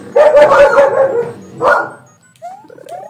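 Small dogs bark and yip in a quick burst, loud and close, then a brief second bark follows, trailing into a few thin whimpers.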